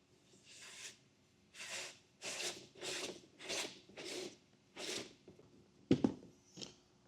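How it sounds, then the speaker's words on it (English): A rubber weather seal slides through the slot of a Westin Sure-Grip running board in a series of close, raspy rubbing strokes, about eight pushes in a steady rhythm, ending with a couple of sharper knocks. "take our weather seal and just slide it all the way through our slot"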